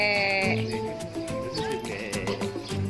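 Sheep and goats bleat loudly at a farm petting zoo in a German adventure village, several wavering calls overlapping close by with busy background noise.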